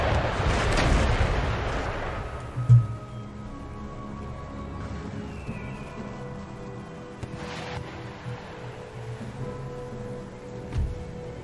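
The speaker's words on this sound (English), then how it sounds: "Let's actually also get my howitzers to take out the section of the wall." Howitzers fire on a fortress wall during a siege battle in Empire Total War: a booming blast rolls out early, then a heavy thud follows, over a low, rumbling battlefield din.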